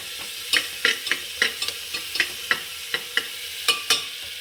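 Garlic paste sizzles faintly in a pan while a spatula scrapes and taps in quick, irregular strokes, close by.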